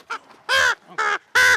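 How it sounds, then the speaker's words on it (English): An African pied crow gives a run of harsh, nasal caws, one short call and then three loud drawn-out ones, close and clear. "This is Brandon, and Brandon is a crow, obviously, but he's not just any crow. He's an African pied crow."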